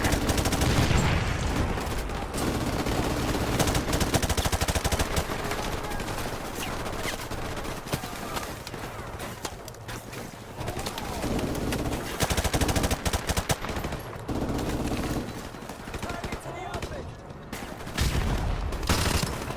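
Sustained machine gun fire in Call of Duty Modern Warfare Remastered, dense rapid bursts loud and close, with brief lulls between volleys and a faint shout under the din.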